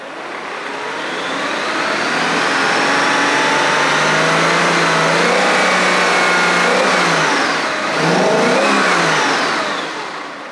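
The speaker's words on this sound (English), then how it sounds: "Let's give it a little RPM here." A Mercedes 560SL V8 engine with a warmed-up motor revs up smoothly, rising to a loud sustained rev, then dipping and surging again before falling back; no talking over it.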